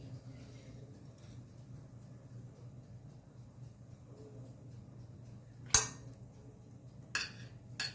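Utensils clink against serving dishes as Goan beef roast is dished up, a couple of sharp clinks standing out near the end over quiet background hum.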